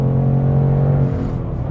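Ford Mustang Bullitt V8 engine revving high during a drive through the snowy Vosges, a loud sustained roar with a steady tone that shifts slightly as the revs change.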